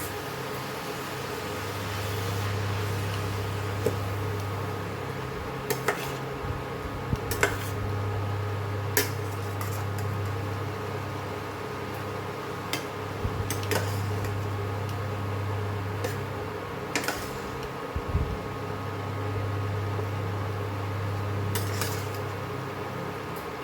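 Goan banana stem stir-fry gets stirred in a pan, giving sparse, sharp clicks and scrapes of the utensil against the metal over a steady low background hum for the whole stretch.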